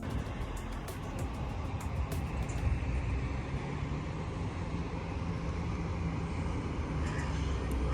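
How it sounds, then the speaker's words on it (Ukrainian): A car comes up on a road near an airport in Hurghada, Egypt, its engine and tyres making a steady low rumble that stays fairly constant and close, with faint traffic behind it. "Але вже ось під'їжджає машинка."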